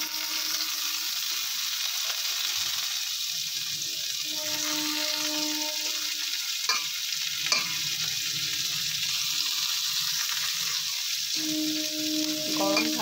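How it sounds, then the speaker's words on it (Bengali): Chopped dimi (gima) greens fry in a hot pan with a continuous bright sizzle, broken by occasional scrapes and stirring clinks of a spoon against the pan. "আর এই পর্যায়ে আমি কুচিয়ে রাখা ডিমি শাকটা দিয়ে দেব।"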